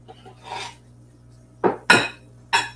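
A ladle clinks and scrapes against casserole dishes while food is scooped in, giving three or four sharp metallic knocks after a softer scraping sound, close and loud, with no talking.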